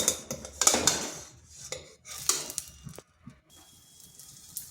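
A semolina flatbread is turned over in a pan on the stove, giving a few sharp metallic clinks and scrapes of spatula against pan, with soft sizzling between them and brief pauses.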